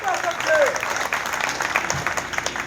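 Audience at a Hindi poetry recital breaking into applause: a brief burst of dense clapping from a crowd, with a voice speaking over it.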